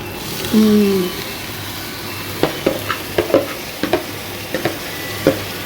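Chopped banana flower fries with ginger and garlic in a pan under a low steady sizzle, punctuated by a series of sharp, irregular spatula taps and scrapes as it is stirred, after a brief voice near the start.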